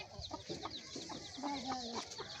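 Chickens and chicks on a small rural poultry farm cluck and peep continuously, with the sharp calls of chicks over lower hen clucks, fairly faint and steady throughout.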